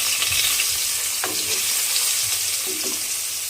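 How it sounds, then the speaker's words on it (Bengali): Fish sizzling and frying in a pan in a home kitchen, with a steady hiss and occasional stirring scrapes and clinks close by. "দেখুন এইভাবে মাছগুলো আস্তে আস্তে দিয়ে কিন্তু আমাকে ভেজে নিতে হবে।"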